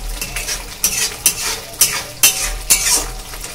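Masala spices fry in a pan with a soft sizzle under repeated sharp metal scrapes and clinks of a spoon stirring, about six firm strokes at a steady pace, close and loud.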